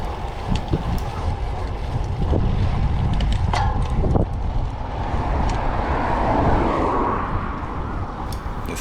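Strong wind blows during a road bicycle ride on Ganghwa–Gyodong, producing a continuous loud low roar and buffeting across the microphone, with occasional brief rattles, steady throughout.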